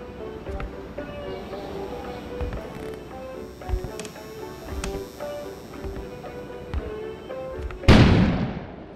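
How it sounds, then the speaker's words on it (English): A sudden, loud explosion bursts outdoors near the end in the game Kona, cutting sharply through calm background music and soft tapping before trailing off in a short rumble. "an explosion suddenly occurred outside."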